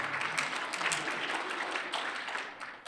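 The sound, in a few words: audience applause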